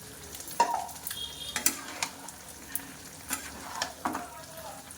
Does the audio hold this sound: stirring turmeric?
yes